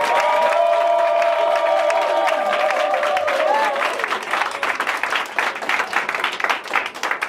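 A church congregation applauds and cheers together, a dense steady roar of clapping and voices that thins and turns more scattered toward the end, with a held sung or called tone over the first half.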